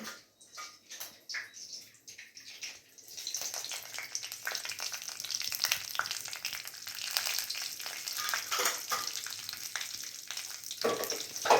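Mustard seeds and cumin hit hot oil in a small pan for a chutney tempering. A few sparse pops come first, then a dense, crackling sizzle builds and holds close by.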